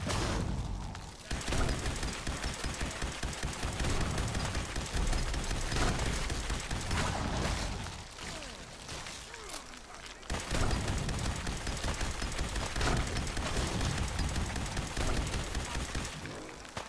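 Heavy video game gunfire during a foggy, radioactive survival playthrough, with dense, continuous rapid shots filling nearly the whole stretch, a brief lull midway, and voices speaking beneath the barrage.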